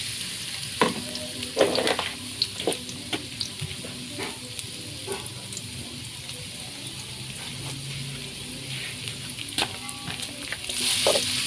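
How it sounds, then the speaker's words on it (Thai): Garlic frying in hot oil in a pan until fragrant, a steady close sizzle broken by frequent scrapes and knocks of a utensil against the pan, no voices. "เจียวกระเทียมให้มันหอม"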